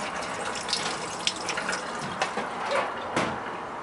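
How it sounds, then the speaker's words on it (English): Steady running water from a tap filling a four-compartment sink inside a 1998 Chevy StepVan P30 catering food truck, a continuous close gush with no talking. "This is a four compartments sink. You can see it's working."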